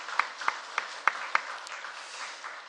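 A handful of sharp, evenly spaced hand claps from a congregation at a special dawn prayer service ring out over a soft, steady room hiss, then fade into quiet background noise.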